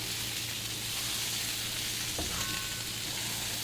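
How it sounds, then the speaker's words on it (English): Asparagus sizzles steadily in a pan of leftover bacon grease, a continuous close frying hiss with a brief stir or clink partway through and no talking. "He just put the asparagus there where the bacon was cooking."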